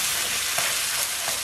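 Vegetables sizzle in a hot pan with a steady bright frying hiss, punctuated by a few soft scraping pulses as they are stirred and tossed around, close up and with no talking.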